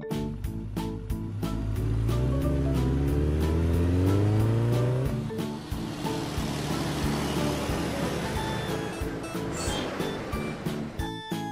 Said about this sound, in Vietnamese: Xe mô tô.